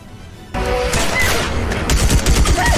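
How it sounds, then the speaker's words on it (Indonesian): Film battle in which soldiers exchange gunfire, starting abruptly after a quiet moment and continuing as loud, dense volleys of shots and booms, with rapid bursts growing toward the end. "dan akhirnya saling tembak pun terjadi"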